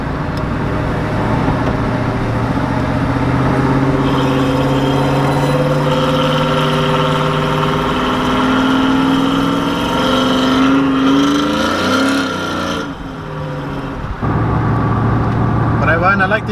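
Car engine and exhaust while driving, a car with a transmission not shifting properly and a steering shaft issue, humming steadily and loud throughout, with a brief dip and rise in pitch midway; people talk over it.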